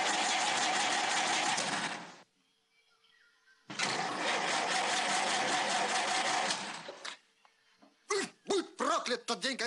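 A car engine cranking and running in deep winter cold around minus 20, with loud sustained engine noise in two long bursts separated by a quiet gap, followed by short sharp bursts near the end.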